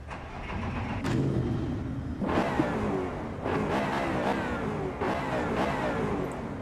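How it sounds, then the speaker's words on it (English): Engine of a car in the racing sim Assetto Corsa EVO, revving in repeated surges with rising pitch sweeps and gear changes, loud and close, with no one talking over it. "Okay, let's drive it. Love the way this car sounds."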